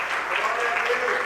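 A church congregation applauds during a Sunday morning service: a brief, soft, continuous clatter of clapping blended with a voice carrying over it.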